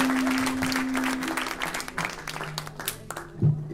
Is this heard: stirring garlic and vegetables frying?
no